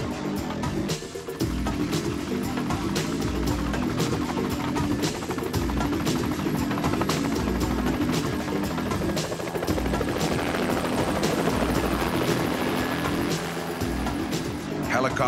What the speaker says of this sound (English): Helicopters are amazingly effective firefighting tools, as they can drop buckets of water on flames with surgical precision.